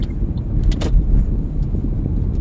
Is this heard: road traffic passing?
yes